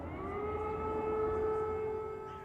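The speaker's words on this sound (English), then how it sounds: "And by mid-morning in Kyiv, sirens and smoke on the horizon from a Ukrainian counterattack" Air raid sirens sound over Kyiv in wartime: a sustained, steady wail of layered tones that rises slightly and then begins to fade, heard alone with no speech.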